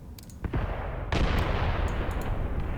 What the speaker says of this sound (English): They are just getting so much pressure from the artillery